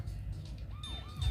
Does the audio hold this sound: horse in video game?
no